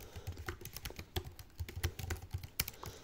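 Close, quiet typing on a computer keyboard, a rapid irregular run of light key clicks with a few sharper taps, alone without talk.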